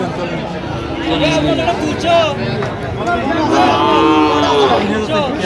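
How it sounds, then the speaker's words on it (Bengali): Sahiwal bulls at a busy cattle market in Cumilla low out in repeated drawn-out moos, loud and close, over a steady murmur of crowd voices. "শাহিওয়ালার ষাঁড়"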